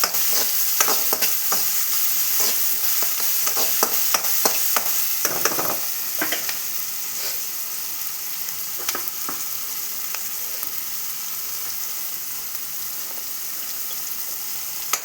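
Onion and tomato sauté with a pinch of salt in a pan, a continuous sizzle broken by frequent sharp stirring clacks and scrapes that come thick at first and thin out later.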